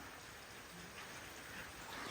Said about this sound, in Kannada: ನನಗೆ ಗೊತ್ತಿರಲಿಲ್ಲ ಕಣಪ್ಪ ಮಳೆ ಬರುತ್ತೆ ಅಂತ